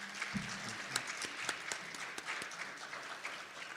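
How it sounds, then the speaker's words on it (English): An audience at a school superintendent candidate Q&A applauds the two finalists with quiet, somewhat distant clapping from a modest crowd, a few sharper individual claps standing out over the steady patter. "One more round of applause for our 2 finalists."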